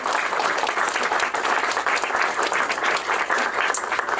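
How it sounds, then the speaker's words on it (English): Dense, steady applause from an audience at a government funding announcement, loud and continuous throughout with many hands clapping at once and no pause. "If we could have another round of applause."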